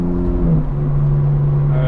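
A 2025 BMW M4 Competition cruising through town, its engine a steady low drone with a held tone throughout, close and continuous under road noise, no voices.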